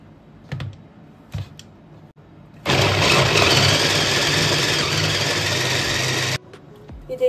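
An electric chopper chops vegetables in one loud, steady whirring burst of about four seconds, with a few soft knocks just before and after.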